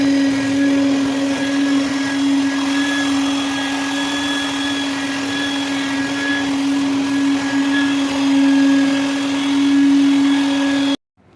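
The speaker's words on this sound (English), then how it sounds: "once I vacuum up and clean up the mess" A vacuum cleaner runs steadily with a loud, constant whine for about eleven seconds, then cuts off abruptly.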